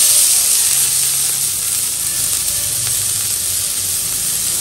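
Onion sizzles in hot oil in a pan for a veg kofta curry, a loud, steady hiss up close with no breaks and no talking.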